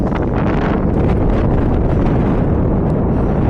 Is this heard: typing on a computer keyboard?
no